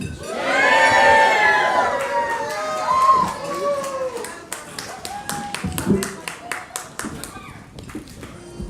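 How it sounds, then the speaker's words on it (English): Wedding guests cheer, whoop and shout, then settle into rhythmic clapping and scattered applause, with voices calling out over the claps. "Ladies and gentlemen, please give them a round of applause"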